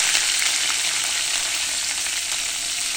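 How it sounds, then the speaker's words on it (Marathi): Mustard seeds, asafoetida and curry leaves sizzle steadily in hot oil for cabbage muthiya tempering. A dense, continuous crackle with small pops runs at close range, with no voices. "तेल तापल्यावर मोहरी तडतडली की आपण टाकणार आहोत हिंग"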